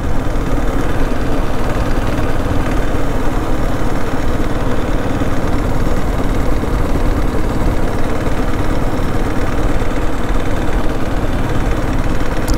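A vehicle engine holding just over 2,000 revs while cruising at about 60, giving a steady, loud, continuous drone with road and wind rumble and no break throughout.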